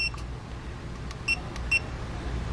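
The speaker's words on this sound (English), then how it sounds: "Hold down set till it beeps." A few short, high electronic beeps from a TST RV tire pressure monitor sound faintly over a low background hum.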